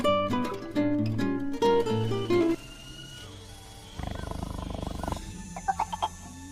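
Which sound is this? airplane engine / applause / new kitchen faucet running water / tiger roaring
tiger roaring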